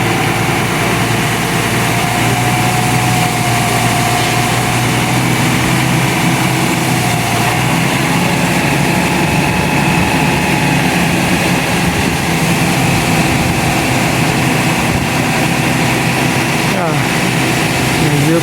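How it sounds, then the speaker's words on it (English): A truck engine runs loudly and steadily up close while the vehicle offloads about 17 tons of ballast at a building site, a continuous rumble throughout. "Vehicle offloading the ballast."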